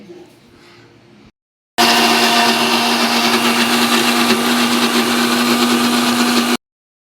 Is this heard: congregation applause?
no